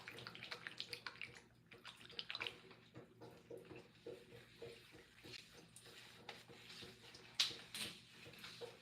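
Water running steadily over curly hair being saturated during a wash, a continuous splashing hiss with irregular gurgles and spatters, close and fairly soft, with no talking.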